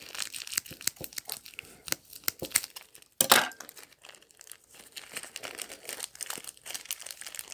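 Plastic packaging for a Plarail Thomas coal hopper toy set crinkles and tears in quick bursts, with one sharp loud rip midway, handled up close with little talk.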